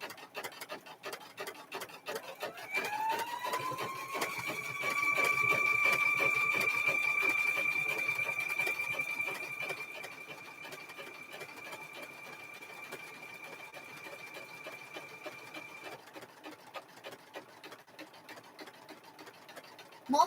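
A sewing machine stitches fabric, running in a steady mechanical rattle for most of the stretch with a sustained whine through the middle, then fading toward the end; no one speaks.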